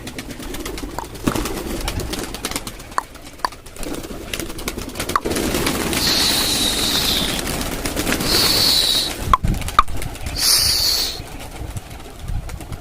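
Pigeons coo low and soft in the background over a rustling ambience, with scattered sharp clicks and a few thin high chirps.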